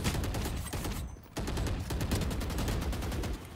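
Rapid automatic gunfire in a video game shooter, a dense, loud burst of repeated shots that pauses briefly after a second and then resumes in a steady fast rattle.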